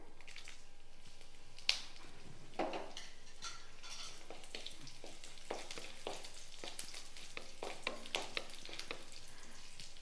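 Four small dried red chilies, broken by hand, sizzle in hot oil in a pan for a South Indian bitter gourd kuzhambu, a soft continuous crackle broken by scattered faint ticks and clinks of utensils.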